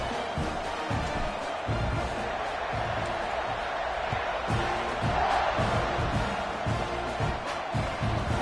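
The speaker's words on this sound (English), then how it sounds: "this crowd is feeling themselves after that last drive" Stadium crowd in the College Football 26 video game roars steadily during a kickoff, a dense continuous wall of cheering and shouts with rhythmic thumps underneath, loud and sustained throughout.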